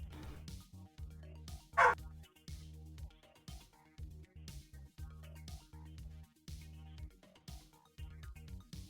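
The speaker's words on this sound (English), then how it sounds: "Apologies for the dog barking." A dog barks sharply once near the start, loud and close, while rhythmic game music with steady low pulses plays throughout.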